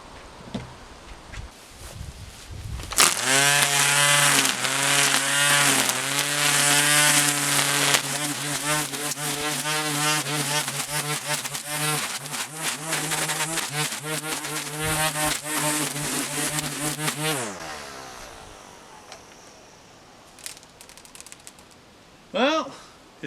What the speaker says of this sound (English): it's not the best weed whacker in the world, but it does seem to work okay. And these are heavy duty stalks